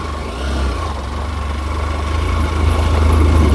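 Motorbike engine running on a solo ride toward a Buddha park near Gokarna, a loud, continuous low rumble that swells slightly as it revs, close and steady, with no voices.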